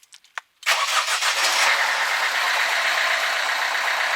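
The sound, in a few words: Ford car engine starting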